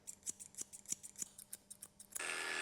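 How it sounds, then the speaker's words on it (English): Thinning scissors snip dog fur near the eyes during a Cavapoochon groom, giving a steady series of crisp, close metallic clicks at a quick regular rhythm, followed by a brief burst of louder broadband noise at the end. "Thinning scissor, take this part off."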